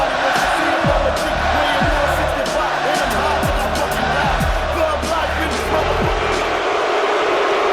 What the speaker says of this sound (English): This crowd here telling them exactly what they think of them.